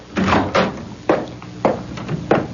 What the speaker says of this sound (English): Open the door, Menashe.